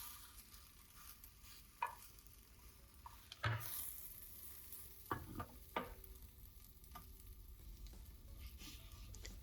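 Quiet, steady frying of an omelet in an oiled pan, a low sizzle running throughout with a few sharp scrapes and taps of a utensil against the pan, heard close with no talking.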